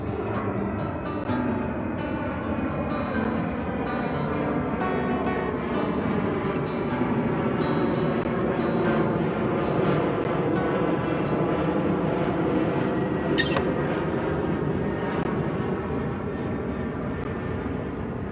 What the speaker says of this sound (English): as soon as one plane stops flying over my head